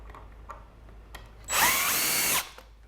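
A power drill drives a screw into a pallet smokehouse in one loud, steady whir of about a second, close up, after a few faint knocks, with no speech.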